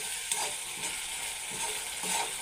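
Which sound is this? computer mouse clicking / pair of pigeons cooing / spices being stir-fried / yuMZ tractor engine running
spices being stir-fried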